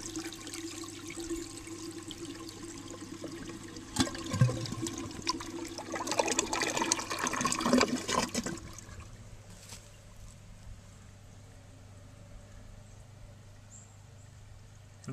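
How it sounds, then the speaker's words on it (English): A 1957 Standard Cadet toilet flushes with a loud rushing surge of water that peaks, then drains away into a quieter trickle as the tank refills. "So here goes the flush."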